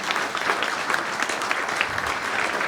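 Audience at a school celebration show applauding the technical, lighting and stage crew, a dense sustained burst of many hands clapping in a hall, steady and moderately loud throughout with no voices.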